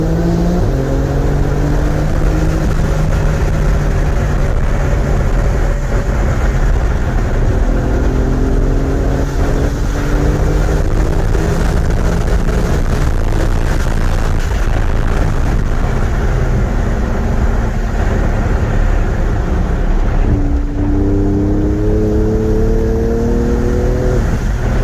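2022 Porsche GT2 RS engine at wide open throttle on a race track, loud and close, with rising revs through repeated gear changes and lifts while cornering through S-turns.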